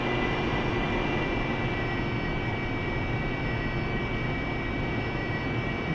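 A Harrier jet engine from the DCS flight game roars steadily and loudly throughout, a dense unbroken whine and rumble with no talking.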